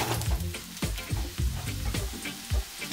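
Yams fry in hot olive oil in a frying pan, a close, steady crackling sizzle with repeated louder bursts as the pieces are stirred.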